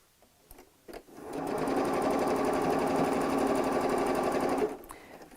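A sewing machine runs in one steady burst of about three seconds, stitching a stripe of scrappy patchwork for a bag, with light clicks of handling before and after.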